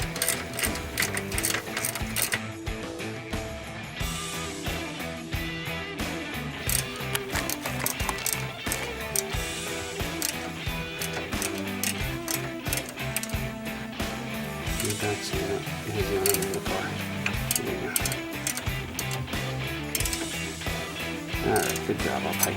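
Ratchet tightening disc brake caliper bolts during a pad and rotor change, fast steady clicking in long runs, close and fairly quiet, with people talking at times.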